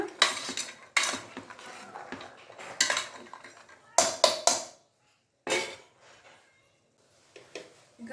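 A metal spoon scrapes and clinks against a pot while bean sambar is stirred, several spaced clattering bursts separated by short quiet gaps.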